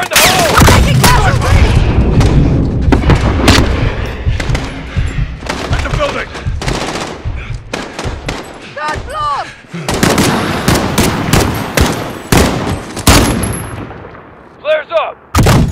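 Call of Duty Modern Warfare combat at an embassy: loud grenade blast and heavy bursts of gunfire, rapid cracking volleys and booms crowding the scene, with shouted soldier voices in between and a lull before a final flurry of shots.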